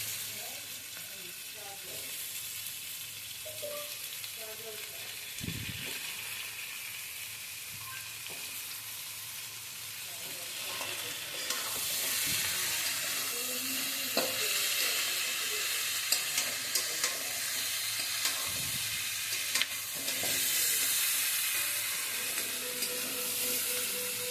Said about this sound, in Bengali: এরপর এর মধ্যে দিয়ে দেবো চিকেনগুলো